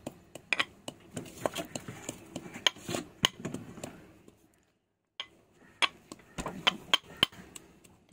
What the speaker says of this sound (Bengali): দেখো হামানদিস্তার মধ্যে এখন লঙ্কাটাকে পুরো কুচি কুচি করে এখন চেতে নিচ্ছে পুরো